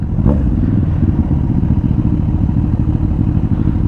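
A Bristol Bobber 650 motorcycle idles close by with a loud, steady, throbbing engine rumble and some mechanical clatter, continuous for several seconds with no speech.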